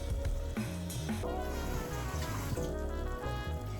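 A lime is rinsed under a running kitchen tap, a steady close splashing stream of water with a few sharper spatters and shifts as the fruit moves through the flow.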